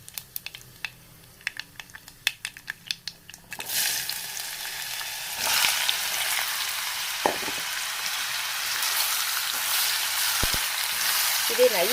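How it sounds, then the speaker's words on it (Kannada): Chopped raw mango hits hot oil already crackling with mustard seeds, asafoetida and curry leaves, turning a sparse popping into a loud, steady sizzle with occasional stirring scrapes, close and continuous. "ಈಗ ಮಾವಿನಕಾಯಿ ಹಚ್ಚಿರೋದನ್ನ ಅದಕ್ಕೆ ಹಾಕ್ಕೋಬೇಕು"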